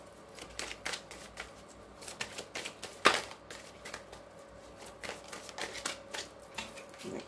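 Tarot cards are shuffled close by in a steady flurry of soft riffling slaps and flicks, with one sharp louder snap partway through as cards spring loose; no voices.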